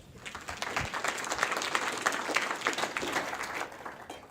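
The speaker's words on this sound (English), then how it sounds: "quick round of applause for Jonathan Birch." A conference audience applauds a speaker at a security talk, a broad wash of many hands clapping steadily at a moderate distance, filling the room without pause.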